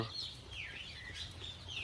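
Local chicken chicks on a low-cost poultry farm give a steady, fairly quiet stream of high cheeping and peeping, many birds calling at once without pause.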